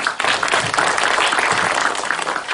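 A conference hall audience applauds a cloud security speaker being introduced, a steady, dense wash of clapping that stays even throughout.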